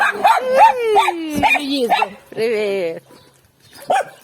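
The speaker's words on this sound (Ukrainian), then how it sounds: "Злі собаки!" Dogs bark and yip in short bursts amid several people talking and calling out, with a whining, high-pitched vocal sound in the middle.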